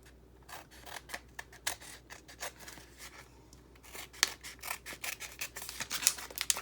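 Scissors snipping through book-page paper, trimming it close to the edge, in a run of quick, crisp cuts that grow denser and slightly louder toward the end, close up with no talking.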